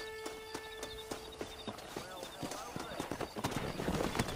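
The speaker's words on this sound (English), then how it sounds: "That ranch hand said there's a pack of wild horses nearby." Wild horses in Red Dead Redemption Remastered clip-clop at a gallop and whinny. The hoofbeats run steadily and grow louder toward the end, with a voice talking over them.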